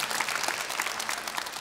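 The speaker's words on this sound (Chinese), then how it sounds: "我们掌声。" An audience claps at a lecture event, a short burst of dense, lively applause from a crowd that stays full and even throughout.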